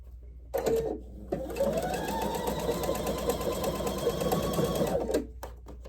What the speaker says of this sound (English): I'll sew these 2 groups of these 2 rows together, and then I will sew those 2 to the first 2.